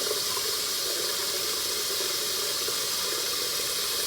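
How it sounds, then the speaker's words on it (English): Tap water runs steadily into a sink while hands are washed with ordinary soap, a continuous close hiss and splash lasting the whole stretch with no talking. "So yeah, so I'm gonna wash my hands."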